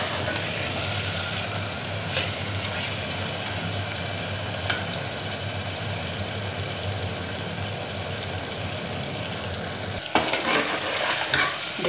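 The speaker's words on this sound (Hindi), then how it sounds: "इसमें हम आलू डाल के थोड़ा भूनेंगे" Potatoes fry and sizzle in cooked masala while a spoon stirs them in the pan, a steady close crackling hiss broken by occasional scrapes, busier stirring toward the end; no talking.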